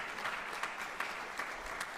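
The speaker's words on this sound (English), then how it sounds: "We can clap for that too." Audience applause at a university athletics hall of fame induction ceremony, a brief, fairly quiet patter of clapping from a seated crowd with no talk.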